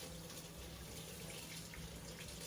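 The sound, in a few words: water from sink faucet rinsing Yeezy 350 sneaker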